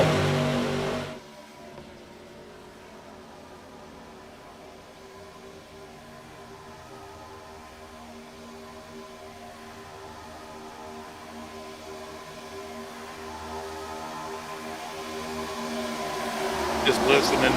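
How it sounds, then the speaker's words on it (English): ARCA stock cars racing in a pack at Talladega Superspeedway, a sustained whining drone of many engines with sweeping pitches that grows louder as the field closes in toward the end. "Just listening to these engines sing as we watch this battle back and forth."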